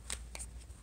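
A deck of love oracle cards is shuffled close by, with a few soft riffling flicks in under a second, quiet and alone.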